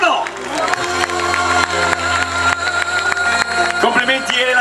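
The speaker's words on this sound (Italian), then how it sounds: "Un bel applauso, signori, la numero 9, Elena Dresti." An audience claps and cheers for a contestant at the Miss La Riviera beauty pageant semifinal in Riva Ligure, with sustained applause under loud music and an announcer's voice.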